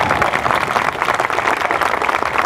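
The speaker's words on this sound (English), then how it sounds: "Let's give them a round of applause." Audience at an outdoor Memorial Day ceremony in Milford applauding, a steady wash of many hands clapping at moderate volume, alone with no talking.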